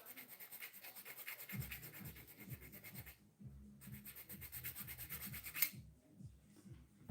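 Hand filing a U-notch deeper in a metal chassis piece: quiet, rhythmic rasping strokes repeat steadily, pause briefly, then resume close by, with no talking.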